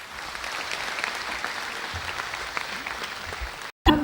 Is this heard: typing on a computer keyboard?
no